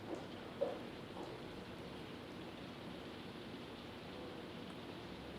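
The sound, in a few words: rain-like noise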